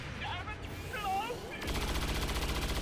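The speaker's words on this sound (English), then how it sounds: "Don't miss these shots, come on." Gunfire in the XCOM 2 turn-based game, a sudden burst of rapid rattling shots that starts midway and continues loudly to the end after a quieter stretch of game sounds.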